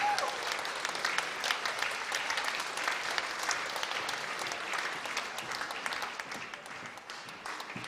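Sustained audience applause at a music festival award presentation for a balalaika player, a thick, continuous burst of clapping from a sizable crowd that holds steady and fades a little near the close.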